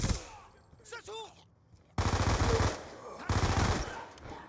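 Automatic weapon fire in a Call of Duty match comes in two sustained rapid bursts, loud and close, after a brief opening stretch of game sounds and talk.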